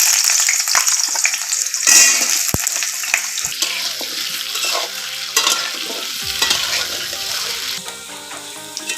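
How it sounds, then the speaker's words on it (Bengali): Potatoes frying in hot oil in a kadai, a loud, close, continuous hiss and bubbling sizzle with crackles and a few soft knocks of a spatula, no talking. "তেলটা গরম হয়ে গেছে, এখন আলুগুলো আমি আস্তে দিয়ে ভেজে নেব।"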